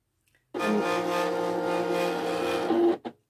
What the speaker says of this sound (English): It's reading the registration marks now to check the correct positioning before it starts cutting.